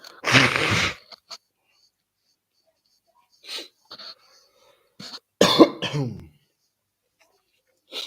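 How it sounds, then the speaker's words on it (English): A few sharp, forceful bursts of a person blowing their nose, one long and one late in a pair, separated by quiet gaps with small rustles between. "Blow my nose time."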